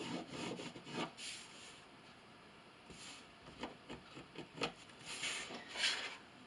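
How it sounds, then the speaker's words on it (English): Pen or marker drawing a line across quilted fabric for a glasses sleeve, soft scratchy rubbing strokes in short irregular bursts, close and quiet, with no talking. "I'm just going to go an inch and a half over and draw another line"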